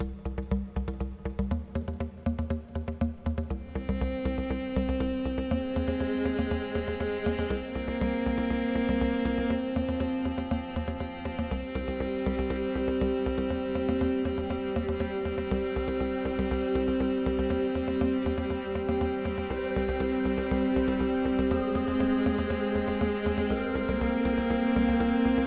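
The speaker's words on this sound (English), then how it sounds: "underneath that we have the PVC tube" A sampled PVC tube instrument in Kontakt plays a continuous pulsing, rhythmic pattern of resonant tones beneath a layered texture, steady and close for the whole stretch without any talking.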